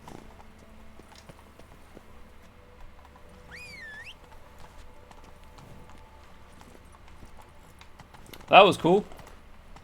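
In The Witcher 3, a horse's hooves patter faintly and steadily near a bridge, with quiet game ambience, a brief spoken remark and a short louder burst near the end.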